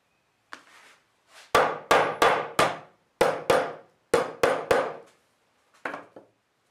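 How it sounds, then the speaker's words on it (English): A hammer knocks pins through a handmade machete handle, a few light taps followed by a run of sharp, loud, evenly spaced strikes close up, with brief pauses between groups. "press everything together, knocking the pins all the way through"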